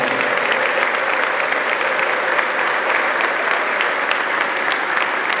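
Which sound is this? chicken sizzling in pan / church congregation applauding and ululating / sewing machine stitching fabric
church congregation applauding and ululating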